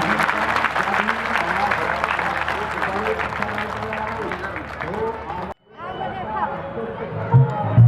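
The crowd at a Balaji mahotsav bhajan gathering in Tanda claps loudly and continuously, mixed with voices and hubbub. The sound cuts off abruptly, then returns as quieter chatter with people talking.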